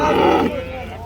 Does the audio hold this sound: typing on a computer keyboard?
no